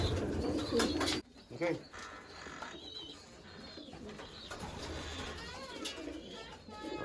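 Soft cooing of racing pigeons in a loft, faint and intermittent, mixed with flutters, shuffling and handling noises close by; a voice speaks briefly.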